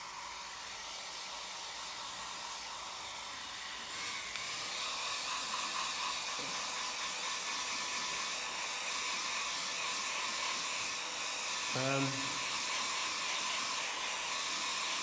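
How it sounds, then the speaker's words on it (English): A hair dryer blows steadily and loudly for the whole stretch while drying a watercolour seascape painting, with a brief rattling clatter near the end. "So I'm going to use the hairdryer now"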